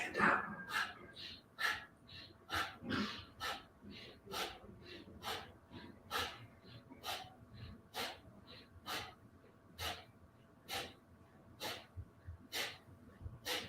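Rhythmic yoga breathing during a guided class, a steady series of audible inhales and exhales repeating roughly every second or so, close and moderately loud with a faint background hum and no talking.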